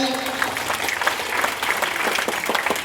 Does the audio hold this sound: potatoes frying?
no